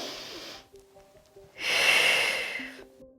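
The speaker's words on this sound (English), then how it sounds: "So we inhale and exhale." A person on a Pilates workout inhales briefly through the nose, then exhales with a long, loud, breathy rush, close and alone apart from a faint background tone.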